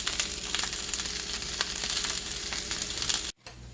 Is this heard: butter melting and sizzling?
yes